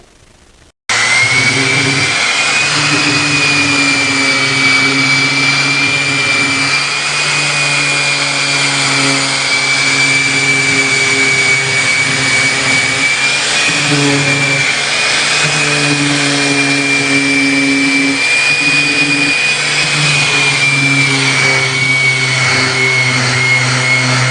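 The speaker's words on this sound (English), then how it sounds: "Well, I'm sanding this" Steady, continuous whine of a power sander on oak running close by for the whole stretch, with a high hum over a lower motor drone and no pauses.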